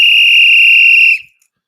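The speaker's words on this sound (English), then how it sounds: "Let's blow a whistle for that right there" A single loud, steady whistle blast holds a pure shrill tone for about a second, then cuts off abruptly into silence.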